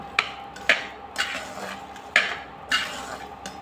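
Salt being dry-roasted in a pan at home for black salt, heard as scraping spatula strokes against the metal with short clinks every half second or so, close and moderately loud with no voices.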